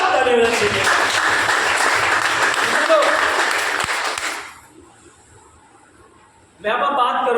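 A hall audience at a business-plan seminar breaks into loud, dense clapping for about four seconds, then fades to near quiet before a voice resumes speaking.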